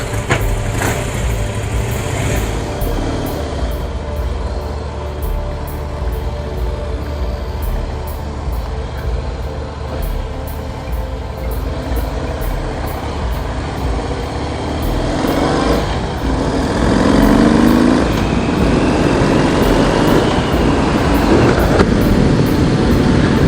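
A 2017 Harley-Davidson CVO Pro Street Breakout with a 110 engine and stage 2 tune, heard on the move as a steady low engine rumble mixed with wind noise, growing louder in the last third.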